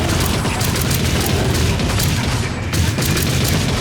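Rapid automatic gunfire from the video game Rogue Trader (Warhammer 40,000), a dense continuous barrage of shots and booms that stays loud and steady throughout.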